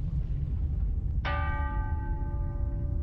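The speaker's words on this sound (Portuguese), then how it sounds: "todos os sinos das igrejas na cidade começam a tocar, sozinhos." A single church bell in Lisbon strikes once partway through and rings on with a long, resonant decay over a rumbling background, in a dramatization of the 1755 earthquake.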